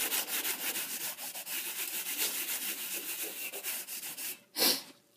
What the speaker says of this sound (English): Just rub it off with a rag.